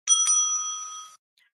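A timekeeper at a school English debate rings a bell: a single bright metallic ring struck twice in quick succession, sustaining clearly for about a second before cutting off into silence.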